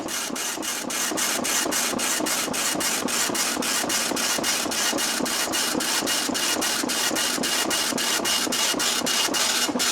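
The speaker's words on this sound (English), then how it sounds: "hold form feed while turning it on, and it'll put it into a test mode and just start printing out characters" An Apple ImageWriter II dot-matrix printer printing characters in self-test mode: a steady, loud mechanical buzz with rapid rhythmic clicks as the print head sweeps back and forth, continuous and close.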